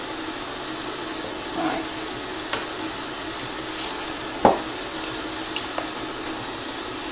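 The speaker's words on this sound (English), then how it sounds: "So let's just keep whipping this so it's lovely light and fluffy." An electric mixer steadily whips butter until light and fluffy, a constant whirring drone close by with a few faint knocks against the bowl. A voice briefly speaks once.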